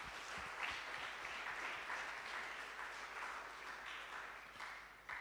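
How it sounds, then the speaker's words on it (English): Steady applause from an audience at a school robotics challenge, a dense wash of clapping sustained throughout at a moderate distance. "Let's give every single one of them a round of applause"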